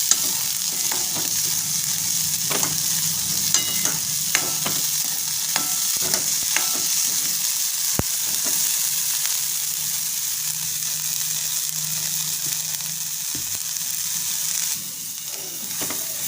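Green chickpeas being dry-roasted and stirred in a pan, with a steady soft sizzle and repeated light scraping clicks of the spoon throughout, no voices.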